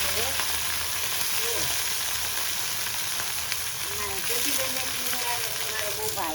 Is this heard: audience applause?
no